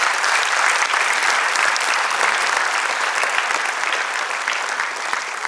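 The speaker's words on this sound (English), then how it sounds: "Let's give a round of applause to Manu Bhaker." Loud, dense applause from a school audience at a TEDx event honoring an Olympic shooter, a sustained wash of many hands clapping close and even throughout.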